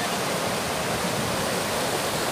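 A river flows in a steady, continuous rush of broadband water noise that fills the short outdoor scene close by, with no talking.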